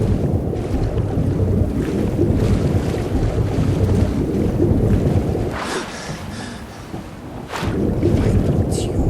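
Sailing ship moving across water in Skyrim, a steady rushing wash of water and wind, with brief voices and a lull in the middle.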